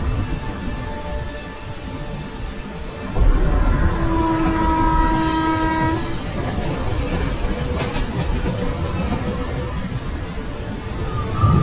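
A night passenger train in Bengal rumbles steadily with a rolling rail noise, and a horn-like tone rises briefly partway through, under a constant mid-level roar.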